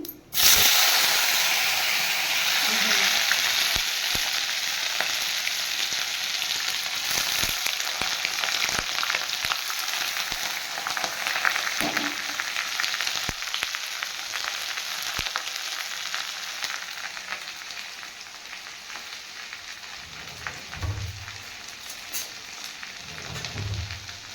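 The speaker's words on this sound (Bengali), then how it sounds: "জিরে আর তেজপাতা ফোড়ন দিয়ে আমি প্রথমে পেঁয়াজকে ভেজে নেব" Onions frying in hot oil tempered with cumin seeds and bay leaf, a steady close sizzle and crackle running the whole time with occasional stirring scrapes, no talking.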